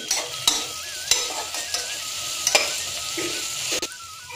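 Garam masala, coriander powder and cumin powder being stirred into onions frying in a pan, with a steady sizzle broken by repeated scraping strokes of a spoon, close and moderately loud.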